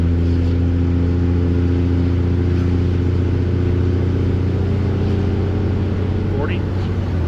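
A second-generation Cummins diesel truck with a straight-piped 4-inch MBRP exhaust drones steadily while cruising with the windows down, its loud, continuous low rumble filling the cabin and rising slightly in pitch near the end.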